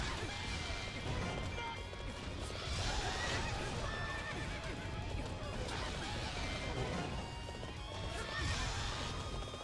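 A horse neighs and whinnies repeatedly over steady clip-clopping hooves in Hyrule Warriors, with occasional crashing impacts in a busy game soundscape.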